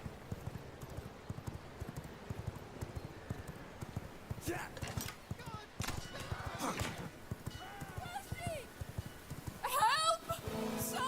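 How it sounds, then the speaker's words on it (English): Horse hooves clip-clop steadily through the ride in the V Rising video game, with occasional neighing and other game sounds layered over them, under someone talking. "The horse makes it a lot easier to return those guys to a safe place."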